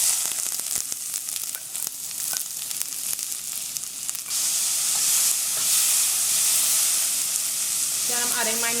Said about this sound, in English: to our oil, I'm going to be adding the chopped onions